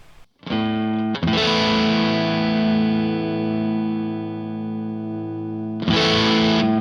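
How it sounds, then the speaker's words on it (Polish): A Squier Classic Vibe Stratocaster electric guitar played through light overdrive distortion strikes a few loud chords, one ringing out with long sustain for several seconds before another is struck. "Ale weźmy teraz przester sobie."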